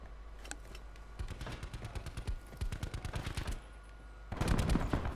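Rapid automatic gunfire bursts from a submachine gun and pistol in the Call of Duty Black Ops 4 video game, loud and close, rattling in quick successive volleys with a brief pause before a heavier final burst.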